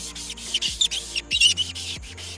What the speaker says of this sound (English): Literally just wipe this stuff on and wipe it off.